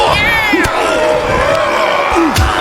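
A loud wrestling arena crowd in WWE 2K25 roars and cheers continuously, with sharp impact thuds from the ring and a commentator's voice talking over the din.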